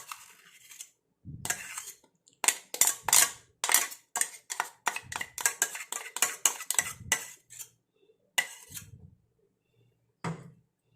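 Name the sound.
spoon scraping hair dye paste from mixer grinder jar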